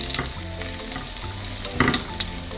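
Chopped garlic cloves frying in a pan with cumin seeds, stirred now and then: a steady close sizzle with scraping strokes of the spoon and a louder stir near the end, with no talk.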